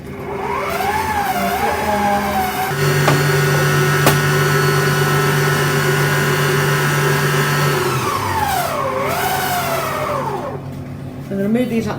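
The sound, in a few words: stand mixer mixing brownie batter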